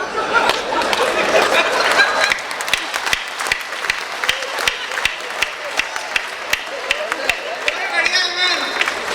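An audience at a late-night Hindi comedy poetry gathering breaks into loud crowd applause that settles into steady rhythmic clapping, with a voice speaking over it.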